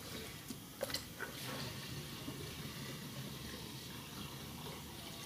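Water runs steadily from a tap during hand-washing of clothes, a faint continuous splashing rush with a few brief clinks near the start.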